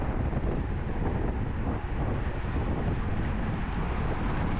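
Steady, loud wind rushing and buffeting over the microphone of a cyclist heading into the wind during a Category 4/5 criterium race, a continuous dense roar with no talk.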